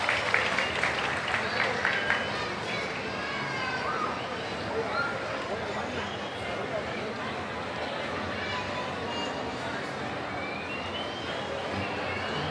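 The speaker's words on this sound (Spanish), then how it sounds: "Les estamos pidiendo el aplauso fuerte" A crowd applauds at a traditional Purépecha music contest featuring trios in Caltzontzin, the clapping steady and fairly loud throughout with a denser burst at the start, and crowd noise mixed in.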